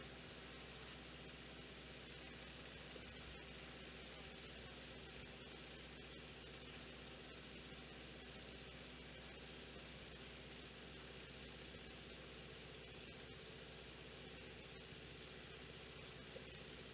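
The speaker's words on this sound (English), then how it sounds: "We can hear the engine's not happy, starting to run out of fuel." Engine of a Vans RV-6 light aircraft on a ground run as it runs short of fuel, a steady droning roar with broadband hiss holding at an even level throughout, close and continuous with no talk.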